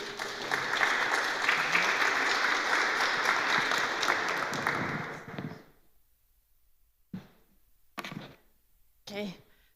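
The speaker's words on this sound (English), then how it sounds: "Applause, please." Audience applause at a Rebuilding Ukraine forum in Bucharest, a sustained broadband clatter of many hands for about five seconds that then stops, followed by a few brief scattered sounds and bits of speech.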